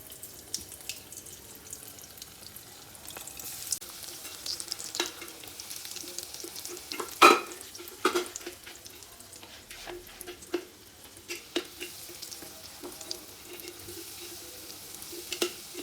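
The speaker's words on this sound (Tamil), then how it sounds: "ஃப்ளேம் கம்மியாக வச்சுட்டு நீங்கள் குயிக்காக வந்து டீப் ஃப்ரை பண்ணிவிட்டு லைட்டாக ப்ரௌனாக எடுத்துடலாம்" Food deep frying in oil over a low flame gives a soft, scattered crackle and sizzle with occasional sharper pops and clinks, moderately quiet and close, no voices.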